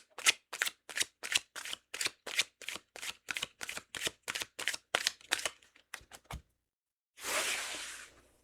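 Tarot cards are riffled and shuffled in a fast, even series of about twenty crisp flicks, close and clear. A few slower card snaps follow, then a short soft swish as a card is drawn. No voices are heard.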